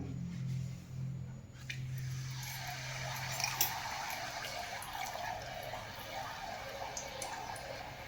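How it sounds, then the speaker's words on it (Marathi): Kadakani, a crisp Navratri fried sweet, dropped into hot oil and frying, a sudden rising hiss that settles into a steady crackling bubble with occasional pops, close and continuous without talk. "आपलं तेल गरम झालेलं आहे आपण आता हे कडकनं आहे ना सोडून घेऊया"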